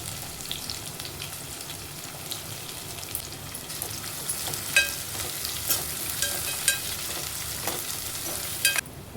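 Garlic and onion frying in oil in a pan for kara kuzhambu, a steady close sizzle with small crackles and occasional stirring clinks throughout.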